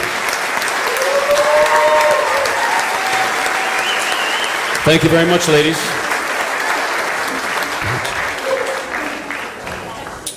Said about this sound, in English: Big round of applause for Kathy and Tina.